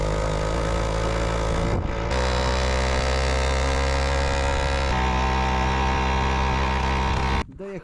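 A Motorynka moped engine drifting sideways on ice, its small two-stroke note buzzing loud and steady with pitch shifts as the revs rise and fall, then cutting off abruptly near the end.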